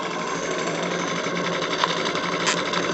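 A small steam-driven Petit Cheval donkey pump runs under load with a fast, even mechanical chatter, a continuous loud rhythmic clatter close by and no talk.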